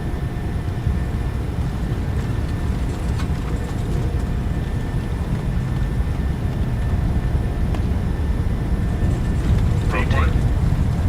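A Norwegian airliner's engines roar in a steady, loud, broadband rumble on the takeoff roll at Oslo in Microsoft Flight Simulator 2020, while cockpit voices make callouts over it.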